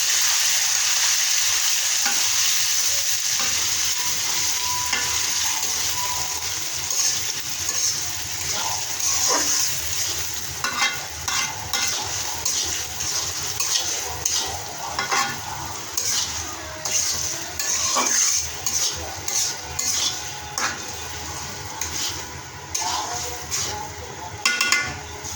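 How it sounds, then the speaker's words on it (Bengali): Taro greens hit a pan of garlic fried until reddish, giving a loud sizzle, then a spatula stirs them in repeated scraping strokes over continuous frying. "এবার শাকগুলো দিয়ে দেব। শাকগুলো ভালো করে নেড়ে নেব।"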